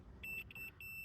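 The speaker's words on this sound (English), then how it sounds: "We do have a beep." Three short, clear electronic beeps in quick succession from a car audio amplifier's remote turn-on wire being tested during an install in an Octavia, each tone steady and close, separated by brief gaps over low background hum.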